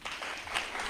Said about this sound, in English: Please give a clap for the Ministry of Education.